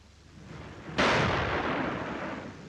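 A single heavy artillery blast in a war film hits suddenly and loud, then its broad rumbling roar lingers and slowly fades.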